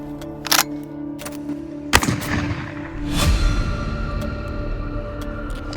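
Turkish pump action shotgun being cycled by hand, a few sharp metallic clacks and a heavier snap of the slide, with handling rustle between them, close and alone.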